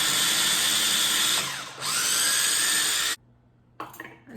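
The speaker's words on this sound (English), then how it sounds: "I'm gonna put it in my little machine here that I love, and I'm gonna put 4 cloves of garlic. So I'm gonna grind it," A small electric grinder whirs loudly and close for about three seconds, pitch dipping briefly as it blends ginger and four garlic cloves into paste, then cuts off, followed by a short rattle.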